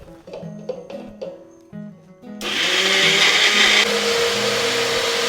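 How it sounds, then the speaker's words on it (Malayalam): A mixer grinder grinds banana flower blossom at home, starting abruptly with a loud, steady whirring roar that holds for about three seconds after a stretch of quieter music-like tones. "ഇനി നമുക്ക് കൂമ്പ് അരച്ചെടുക്കാം"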